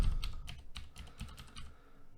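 Fingers tap out quick irregular keystrokes on a computer keyboard during network setup, close and crisp, a short burst that tapers off, with no talking.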